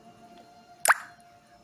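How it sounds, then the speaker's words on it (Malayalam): A pinch of unniyappam batter drops into hot oil, giving a single sharp plop and brief sizzle near the mic, with quiet surroundings before and after. "നമുക്കതിൽ എണ്ണ ചൂടായി നോക്കാൻ വേണ്ടി ഒരു നുള്ള അതിലേക്ക് ഇട്ട് കൊടുക്കാം"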